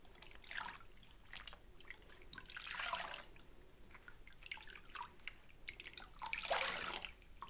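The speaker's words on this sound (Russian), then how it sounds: "Последний раз я его сейчас прополощу." Water drips and trickles faintly in quiet bursts while a wool and down shawl is rinsed in a basin, with a few splashier moments standing out.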